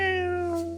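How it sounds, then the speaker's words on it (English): Cartoon snail meowing, a single clear, high, sustained cat-like meow with a slight falling pitch, close and alone. "And the two lovebirds meow to each other"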